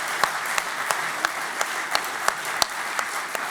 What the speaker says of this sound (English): a round of applause and a few cheers for Kirsten